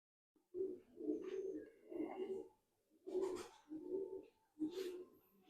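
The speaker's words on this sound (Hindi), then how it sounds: "ये जी हमारा कांतों वाला कबूतर है जी।" A kamagar pigeon coos close up, giving six rounded, rhythmic low coos in two groups, each swelling and fading with short gaps between, alone with no talk.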